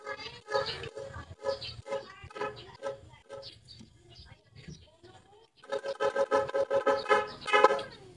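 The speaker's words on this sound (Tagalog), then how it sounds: "So, ito naman yung stock horn." A stock car horn honks in repeated short bursts, then a longer run of loud, continuous honking near the end, close by.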